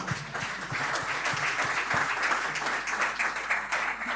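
A church congregation applauds with steady, dense clapping, fairly loud and continuous throughout, with no voices over it.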